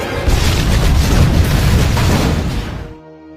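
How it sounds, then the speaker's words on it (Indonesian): A warehouse blown up in the action film Peppermint: one loud, deep, rumbling blast that roars for nearly three seconds before fading into a quieter tail. "ia pun dengan segera meledakkan tempat tersebut"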